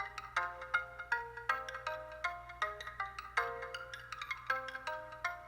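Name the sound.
Logic Pro X tiny plucks synth instrument melody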